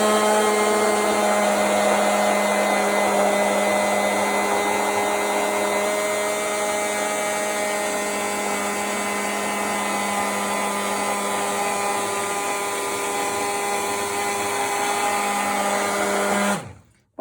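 Stick blender whirring steadily in a container of homemade mayonnaise, a close, loud motor hum that runs unbroken for about sixteen seconds and then cuts off abruptly, with no voices over it.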